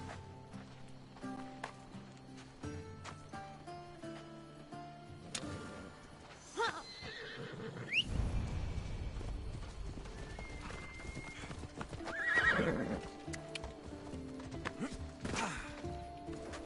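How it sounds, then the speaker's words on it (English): Horse hooves clip-clop in a steady rhythm through a stretch of Assassin's Creed Odyssey gameplay, with a short neigh near the middle among scattered thuds and game sounds. "Sorry, I just want my horse."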